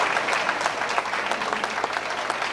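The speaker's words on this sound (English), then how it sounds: "a big round of applause once again, ladies and gentlemen, the top 10 modified division" Steady applause from a banquet crowd at a 1990 Highland Speedway racing awards dinner in Highland, Illinois, honoring the top ten modified division drivers; dense, continuous clapping filling the room, with no talk over it.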